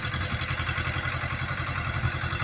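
A tractor engine runs steadily in a crop field planted with chillies and brinjal, its close, continuous low chugging throb holding an even rhythm with a clattery edge and no break throughout.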